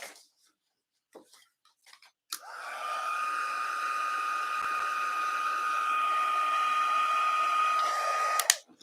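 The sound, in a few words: craft heat tool blowing hot air to dry ink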